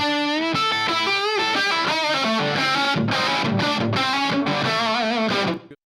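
Distorted electric guitar plays a melodic line through a tape-emulation echo delay plug-in with diffusion and heavy saturation, repeats smearing each note, loud and continuous before cutting off at the end.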